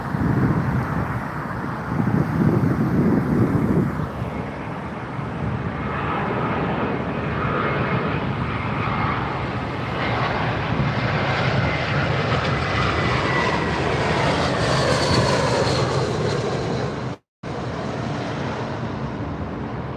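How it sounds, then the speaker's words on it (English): A British Airways airliner arrives on runway 27R at London Heathrow, its engine roar building into a loud, sustained broadband rush with wind buffeting, steady throughout and briefly cut out near the end. "British Airways just coming in now"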